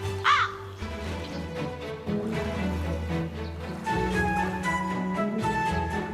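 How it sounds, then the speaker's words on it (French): A crow caws in an animated wolf cartoon, a loud raspy call near the start set over a continuous music bed that carries on to the end. "Les corbeaux sont omnivores."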